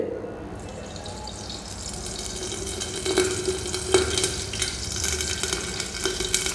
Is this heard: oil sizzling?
yes